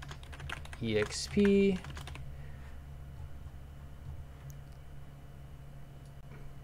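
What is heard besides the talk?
typing on a computer keyboard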